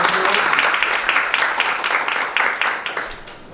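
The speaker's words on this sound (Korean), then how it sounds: "큰 박수로 맞이해주시기 바랍니다" An audience at a K-fashion policy forum applauds loudly to welcome a member of the National Assembly, dense clapping that stays strong and then begins to fade.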